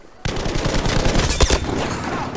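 Browning medium machine gun fires in Battlefield 5, a loud, continuous rapid burst of close shots with the dense crackle of battle behind it.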